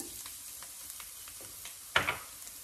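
Mustard seeds, garlic and ginger hit hot oil in a pan, giving a quiet sizzle with scattered soft pops and one brief louder crackle near the end.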